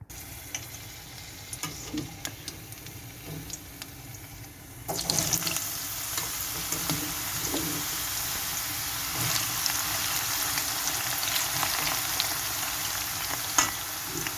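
Sliced zucchini hits hot oil partway through and a steady, loud sizzle takes over, crackling continuously with occasional sharper pops.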